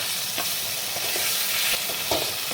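Spice paste fries in released oil for a taro and tangra fish curry, giving a dense, close, continuous sizzle with a few brief scraping stirs of the spoon.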